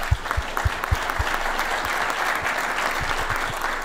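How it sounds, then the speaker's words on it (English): A conference audience claps at a Women in FLCMAA summer gathering, a moderate wash of applause with a few louder, closer claps standing out, holding steady throughout. "Round of applause,"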